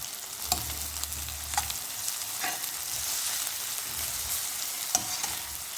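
Onions frying with ginger-garlic paste for mutton keema, a steady close sizzle with occasional sharp scrapes and clicks as the mixture is stirred in the pan.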